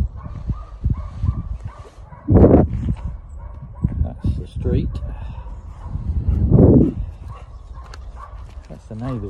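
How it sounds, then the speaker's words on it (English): A neighbour's dog barks in a few loud bursts from nearby, heard while out walking a dog along a windy road, with people talking and wind noise around it. "That's the neighbour's dog barking."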